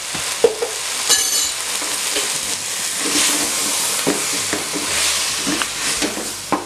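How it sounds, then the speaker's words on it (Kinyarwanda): Spices and beef masala frying with tomato paste for a meat sauce, stirred in a pot: a steady close sizzle and hiss with repeated scraping and knocking stirring strokes, no talk. "uburyo bya birungo byose byivanga na ya tomato paste igashya"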